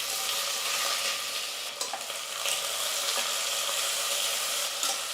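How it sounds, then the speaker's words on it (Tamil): Sliced onions sauté in oil for egg biryani, a dense, even frying hiss close up, broken by a few soft stirring clicks, with no voices. "வெங்காயம் வந்து நல்லா வதங்கட்டும்."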